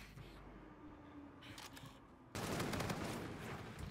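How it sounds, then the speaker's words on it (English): Video game gunfire crackles in a dense rapid burst partway through, faint overall and following a quieter stretch of scattered shots and game noise. "Why are you shooting me, dude?"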